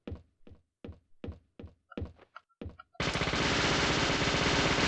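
Gunfire in the video game Deadly Premonition Origins: about eight separate dull shots thump in an even rhythm, then a loud, continuous roar of rapid fire takes over and holds to the end.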